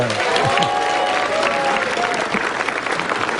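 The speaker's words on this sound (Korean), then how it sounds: "막 박수 치지 마시고요" A studio audience at a live public broadcast of a Korean morning news program applauds loudly and densely throughout, with a few voices and cheers rising through the clapping.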